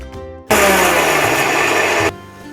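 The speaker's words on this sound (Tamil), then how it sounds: "நம்ம வறுத்து வைத்த சாமானெல்லாம் நல்லா பொடிச்சு எடுத்துக்கலாம்" A mixer grinder grinding roasted spices, whirring at loud, steady full power for about a second and a half before cutting off abruptly, with quieter clatter around it.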